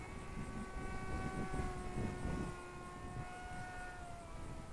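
Electric motor of an Eachine ATOMRC Seal Wing G1500 FPV glider, 1100 mm wingspan, in flight just after launch: a steady, sustained whine with layered tones over rushing wind noise, at a constant distance throughout.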